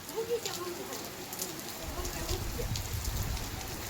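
Steady rain falls on surfaces in a village, a soft, continuous patter that grows heavier and lower partway through, with people talking over it.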